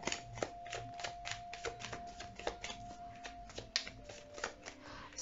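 Tarot cards shuffled and drawn by hand, a close, quiet run of rapid papery flicks and riffles with a faint steady hum beneath, no voices.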